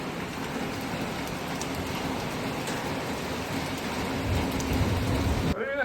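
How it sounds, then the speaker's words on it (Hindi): Heavy rain falls steadily in a home garden, a dense continuous hiss that swells slightly toward the end with no talk. "बरसात बहुत ही तेज होगी बार"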